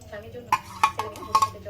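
Semai vermicelli stirred in ghee and butter in a kadai, giving a few sharp metallic scrapes and clinks of a spoon against the pan at irregular intervals over a low background hum.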